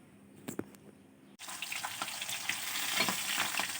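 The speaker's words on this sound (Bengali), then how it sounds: "এইখানে শিং মাছগুলো ভেজে নিচ্ছি" Shing fish (stinging catfish) frying in a home kitchen: after a quiet start with a couple of faint knocks, a loud, steady broadband sizzle starts abruptly and crackles on continuously, close up, with no talk.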